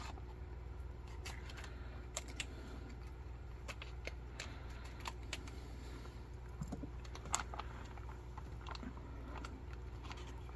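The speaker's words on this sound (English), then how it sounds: "I'm actually going to cut the bag" An MRE smoothie bag from a disaster relief ration being cut open, heard as quiet, close, irregular crinkly snips and plastic rustles over a low steady hum, with no talking.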